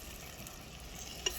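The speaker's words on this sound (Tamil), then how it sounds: "இப்போ நம்ம அரைச்சி வச்ச பேஸ்ட்டை இதில் கலந்து கொஞ்சம் வதக்கிக்கலாம்" Soft sizzling of a ground masala paste frying in a pan, with a steady hiss and a faint scrape of stirring.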